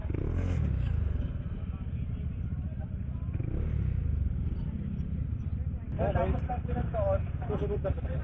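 Motorcycle riding at speed on a road near Manaoag, Pangasinan, with a steady low engine drone and wind rumble throughout, and a voice talking over it near the end.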